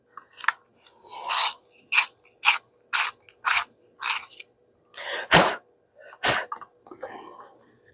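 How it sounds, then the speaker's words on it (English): A colored pencil being sharpened makes a run of about a dozen short, close scraping and grinding bursts in an uneven rhythm, with one louder rasp near the end. "Maybe sharpen it up a bit."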